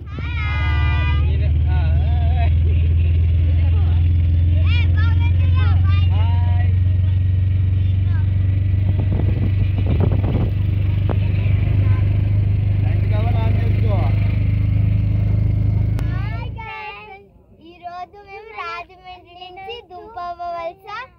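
An auto rickshaw carries a family toward a waterfall, its engine droning loud and steady for most of the ride while people chat over it, then cutting out so only their voices remain.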